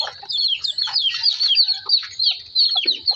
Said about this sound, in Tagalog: Titignan ko ayun yung sisiw guys.